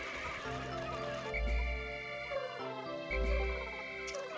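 Pikmin creatures thrash and gurgle while drowning in water, two long bursts of bubbling, rattling noise over a busy, tonal game soundtrack.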